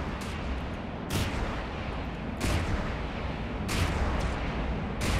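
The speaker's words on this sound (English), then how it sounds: "the Sea Wiz is still firing too" A Sea Wiz close-in weapon fires in a naval combat game, delivering repeated heavy bursts roughly every second or so over a dense, rumbling roar of battle.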